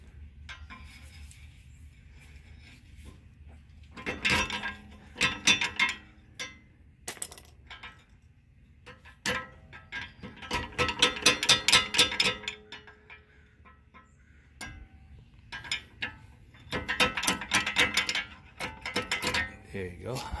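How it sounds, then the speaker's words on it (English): Metal clanks and scrapes come in bursts as a pry bar works a 2000 Toyota Celica drive axle loose from the transmission, several clustered knocks with quieter gaps between them. "Need a little pry bar."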